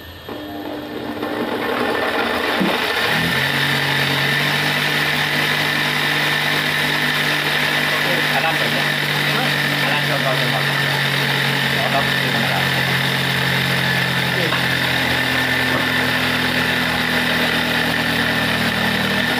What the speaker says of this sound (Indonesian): kita langsung poles